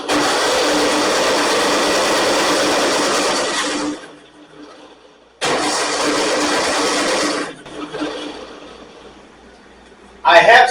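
A Ford 9N tractor engine is cranked by the starter with the ignition on, a loud, close, rapid mechanical whirring in two bursts separated by a pause, then a short final burst.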